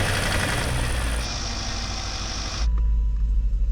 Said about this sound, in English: just ticking over with no oil in them. This is making a horrible noise already.